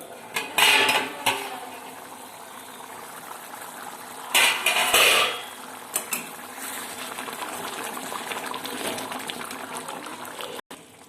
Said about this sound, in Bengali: 2 মিনিট পর আমি ঢাকনা খুলে নিচ্ছি।